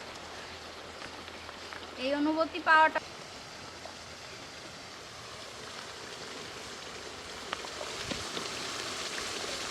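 Rain falls steadily on an outdoor picnic spot under banana leaves, a continuous soft hiss throughout, while a person talks briefly near the start.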